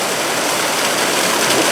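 Stone Creek rushing past during a multi-day river trip, a steady broadband wash of flowing water heard close and continuous, with no voices over it.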